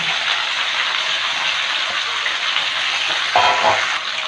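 Pumpkin, beans and Malabar spinach stalks sizzle in hot oil in a pan with lightly fried potato, a steady close hiss that briefly swells louder near the end.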